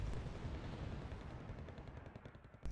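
Mortar fire in the video game Wargame: Red Dragon, during a 3v3 match, comes as a loud, dense rumble of booming blasts with sharp cracks, including a strong hit near the end.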